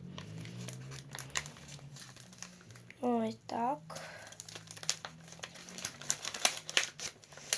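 Crinkly rustling of a paper LOL Surprise packet being torn open, with a few quick ripping strokes amid handling noise, and a voice speaking briefly in Ukrainian.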